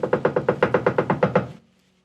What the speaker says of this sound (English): knocking loudly.